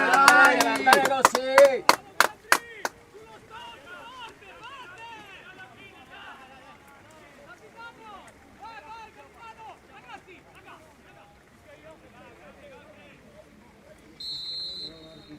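A referee's whistle shrills several times in quick succession at an Eccellenza Sicilia football match between Cus Palermo and Licata, loud at first and then cut off, followed by continuous commentary over crowd noise.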